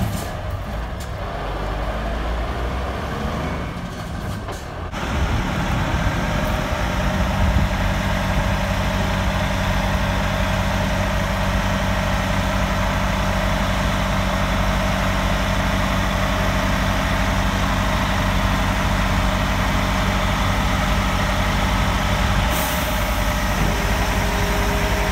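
Dump truck diesel engine idling with the power take-off engaged and the dump bed raised, a steady loud mid-pitched rumble that rises in intensity after a few seconds and holds evenly throughout.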